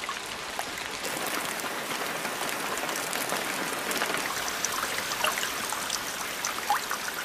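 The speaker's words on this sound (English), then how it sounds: "Precipitation falls incessantly throughout what is now the Amazonian rain season" Steady rain pours over the Amazon rainforest during the rainy season, a dense, even hiss of countless drops that continues unbroken without any voices.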